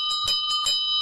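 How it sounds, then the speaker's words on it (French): A small bell hanging at the entrance of an inn rings several times in quick succession, bright metallic strikes with a ringing tone between them, close and clear, with no voices. "À l'entrée de l'auberge, une cloche suspendue sonne chaque fois qu'un voyageur arrive."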